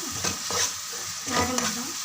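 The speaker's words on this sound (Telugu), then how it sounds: "నూరి పెట్టుకున్న మసాలా వేసుకున్నాం. పచ్చివాసన పోయినాక" Ground masala paste fries in a pan with a brief, close, steady sizzle and a few stirring scrapes.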